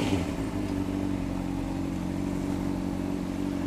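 A Honda CBR 600RR sport motorcycle idles steadily close by, a constant low engine drone with no voices.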